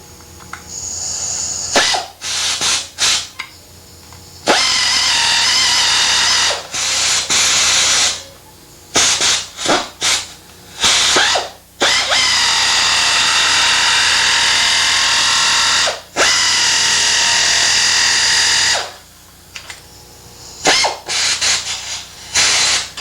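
A piece of car body panel is cut out with a power tool during a body repair, as loud, harsh hissing bursts start and stop repeatedly, some long and some short, close to the mic.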